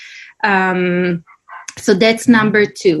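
A dog barks and yips close by, one long sustained bark followed by several shorter ones, mixed in with a person talking over them.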